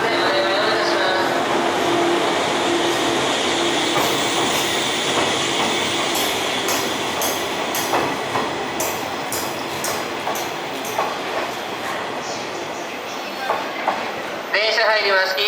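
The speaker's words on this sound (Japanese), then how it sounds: "電車入ります。" A retired JR East 185 series train rolls into a station, its loud steady rumble carrying rhythmic wheel clicks and squeals, while station announcements play over it.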